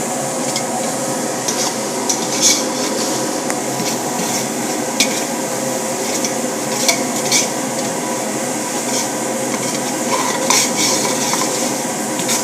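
A spoon stirs a sugar mixture in a pot for semolina halwa, giving a steady soft scraping and swishing with faint clinks against the metal, close and continuous throughout.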